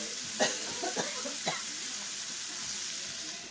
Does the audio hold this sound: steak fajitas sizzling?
yes